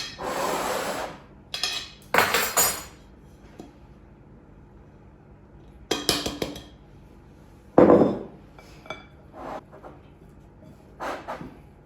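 Peanut butter cookie dough for vegan cookies is stirred with a spatula in a bowl, giving scattered bursts of scraping and clinking, some loud and close, with quiet pauses between.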